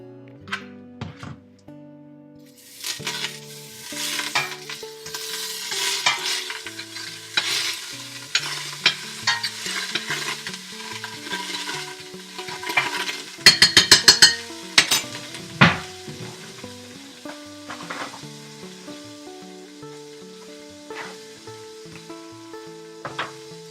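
Butter sizzling and being stirred in a large heated pot with chopped onion for a German rabbit stew, soft frying crackle under repeated scraping and clinking of a utensil against the pot, close and moderately loud, with no talking.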